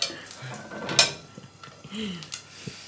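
A plate is pulled out of an oven holding a home-cooked omelette and potatoes. A sharp dish clatter is followed by a few lighter knocks and scrapes, close and fairly quiet.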